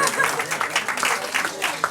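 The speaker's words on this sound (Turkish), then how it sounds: "alkışı hak ediyorlar" Audience applause at a quiz night, a steady wash of clapping filling the room for about two seconds, with voices mixed in underneath.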